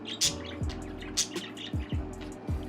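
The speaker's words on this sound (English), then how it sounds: "males will chirp more than females, and that's just their jibber jabber" A male budgie parakeet chirps close by in a quick series of short, bright tweets with brief gaps between them, heard on its own.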